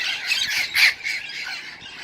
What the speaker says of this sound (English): lot of parrots